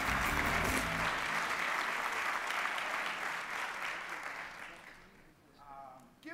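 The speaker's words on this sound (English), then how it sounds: "Give him a round of applause." An audience at an education conference panel applauding: dense, loud clapping from a full room that gradually thins and fades out, followed by a brief moment of quieter room sound at the end.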